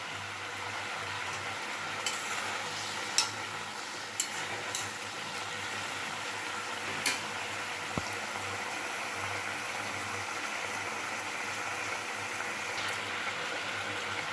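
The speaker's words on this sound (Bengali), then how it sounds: "এবার দিয়ে দেব ভেজে রাখা বলগুলো।" Fried cabbage balls in a pan bubble and sizzle faintly and steadily, with a few soft clicks of stirring, quiet and close, no speech.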